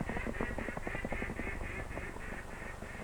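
Wild ducks resting during their southward migration quack in a quick repeated series, each call short and nasal, heard faintly over a steady background hiss.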